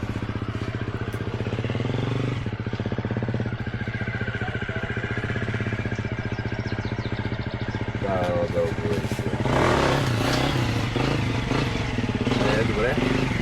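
A motorcycle engine runs loudly and steadily throughout, its pitch rising as it revs harder near the end.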